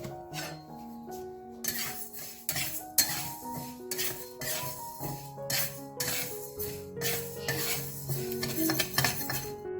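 A pot of dal is set on the stove with steady clanking of metal pots, pans and utensils, clinks and scrapes close by in a busy home kitchen, no voices.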